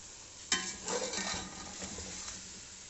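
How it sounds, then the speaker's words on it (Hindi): Potatoes frying in a pan for junglee pulao, with a sharp sizzle as they hit the hot oil, then a steady crackle broken by stirring scrapes, close and moderately loud. "2 से 3 मिनट हम भुनाई करेंगे आलू और चने के साथ"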